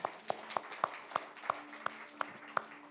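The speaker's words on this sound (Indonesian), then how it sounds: "Tepuk tangan untuk kemuliaan Allah." Sparse, evenly spaced claps in a church service, sharp individual hand claps repeating roughly three times per second over a faint steady hum, sounding like a small group clapping in rhythm.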